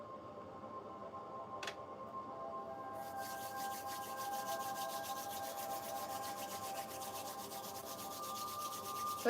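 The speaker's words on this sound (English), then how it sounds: "rub your palms together in a circular motion" Palms are rubbed together in a circular motion, making a soft, continuous, close-up friction swish with faint texture, quiet and steady with no voices.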